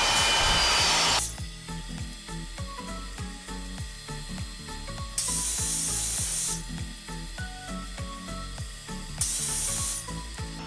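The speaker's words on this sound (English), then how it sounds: "Using my miter saw again, I'm cutting all the dividers to their rough length" A miter saw cuts wooden dividers for a whiskey cabinet to rough length, with loud bursts of the blade at the start, middle and near the end and quieter rhythmic shop noise between them.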